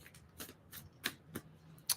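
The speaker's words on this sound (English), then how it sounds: "sometimes the cards want a little bit more of a shuffle" Tarot cards being shuffled by hand, a handful of soft, quick riffling and slapping bursts spaced irregularly, close and quiet with no talking.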